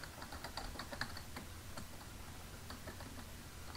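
Keys clatter on a computer keyboard in a quick irregular run of light ticks, close and quiet, with no talking.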